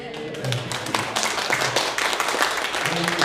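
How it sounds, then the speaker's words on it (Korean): Seminar audience applause, a steady mid-level patter of many hands clapping throughout a short stretch, with a voice talking faintly underneath. "동의하시는 것처럼 박수 소리가 좀 들어오죠"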